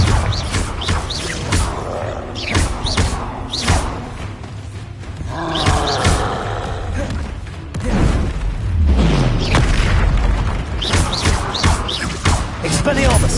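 Confringo blasting spell explosions from Hogwarts Legacy, a video game, booming and crashing repeatedly through the stretch, loud and up close, mixed with game music, creature roars and a voice shouting spell names.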